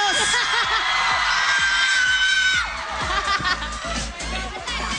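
A studio crowd screams, cheers and whoops for contestant Marky Boy during a game-show audience vote, a dense, loud wave of shouting voices that eases slightly partway through while rhythmic claps continue beneath.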